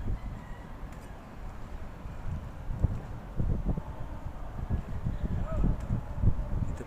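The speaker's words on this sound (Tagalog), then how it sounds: "pero malakas ang hangin dito sa malamig" Strong, cool wind gusts near a mountain at a storage site in Calamba, Laguna, buffeting the microphone as an uneven, rushing roar with faint rustling, steady throughout and fairly quiet.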